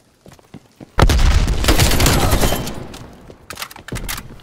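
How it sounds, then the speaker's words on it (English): Frag grenade going off in Call of Duty Cold War, one loud sudden blast with a rumbling tail that fades over a couple of seconds, after quieter footsteps and gear clicks, then sharper gunfire cracks near the end. "Throwing frag."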